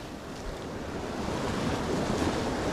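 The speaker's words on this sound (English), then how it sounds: "We've got a southerly wind, force 4 to 5. Quite blustery" Blustery southerly wind, force 4 to 5, rushes across the microphone over a steady roar of ocean swell at a bay, building slightly louder over the few seconds, with no talking.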